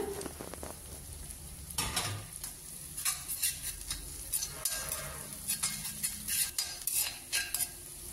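Five chopped green chillies sauté in hot oil in a pan for a drumstick-leaf pickle, giving a steady close sizzle broken by scraping stirs and light metallic clinks of a spoon against the pan.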